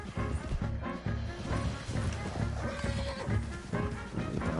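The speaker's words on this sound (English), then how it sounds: "Leave the horse here." A horse in the Red Dead Redemption 2 video game neighs and snorts amid busy game sounds, fairly quiet and mixed under background effects.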